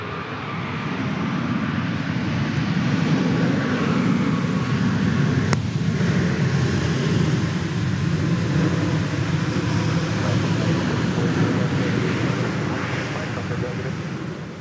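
A jet airliner takes off from runway 31 left at Dallas Love Field, a loud sustained broadband engine roar holding steady for the whole stretch, with faint radio chatter beneath it.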